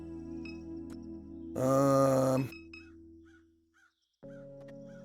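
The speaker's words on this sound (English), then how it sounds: "3 crows eye you from the power line." A single loud, harsh crow caw rings out over a steady low electronic hum in the Norco game setting, with crows on a power line, followed by a brief drop and the humming tone returning.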